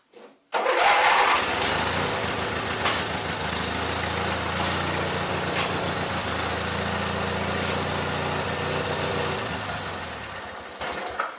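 A lawn tractor fitted with a new drive belt starts up and runs, settling into a steady, loud, close engine drone for about ten seconds before cutting off, with no talk.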